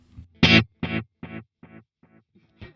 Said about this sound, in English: the first one I'm going to add in is an analog delay